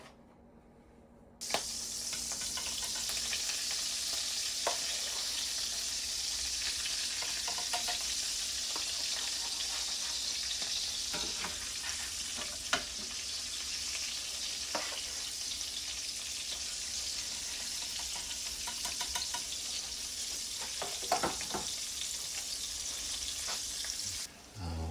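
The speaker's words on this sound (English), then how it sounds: "we're gonna head on over to the frying pan so we can make our delicious potato cakes." Steady crackling sizzle of potato cakes frying in a hot pan, with occasional soft clicks and scrapes, going on continuously without talk.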